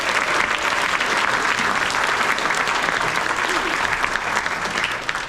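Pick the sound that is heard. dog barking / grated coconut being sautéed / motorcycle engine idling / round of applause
round of applause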